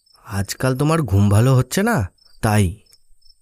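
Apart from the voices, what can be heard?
crickets chirping at night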